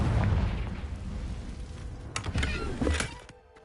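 A Confringo fire spell explodes in Hogwarts Legacy, with a rumbling, roaring blast followed by several sharp crackling pops before it fades out.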